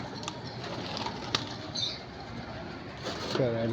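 Pigeons shooed from the ground: brief wing-flapping bursts and soft coos, close by, mixed with a person's voice.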